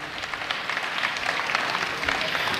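An audience applauds at a Tamil Kavadi Aattam folk dance performance, a continuous crowd of hands clapping at steady, moderate loudness with scattered sharper claps standing out.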